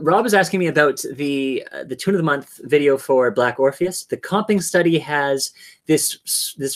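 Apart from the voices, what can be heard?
No everyday noises stand out.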